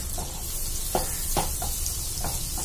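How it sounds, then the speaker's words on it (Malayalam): Finely chopped garlic fries in melted butter in a pan, giving a steady sizzle broken by several soft crackles and stirring scrapes, with no talking. "ഈ ബട്ടർ ഒന്ന് മെൽറ്റ് ആവുന്നതോട് കൂടിയിട്ട് നമുക്കതിലേക്ക് നമ്മൾ നേരത്തെ അരിഞ്ഞു വെച്ചിരുന്ന വെളുത്തുള്ളി ചേർത്ത് കൊടുക്കാം"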